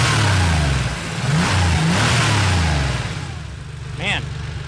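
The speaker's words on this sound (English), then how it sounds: "It's the signature whirring and churring of the air-cooled 911." Loud, close revving from an air-cooled Porsche 911 engine, a growling, churning whir rising and falling in pulses, with a brief voice breaking in near the end.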